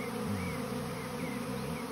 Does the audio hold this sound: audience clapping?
no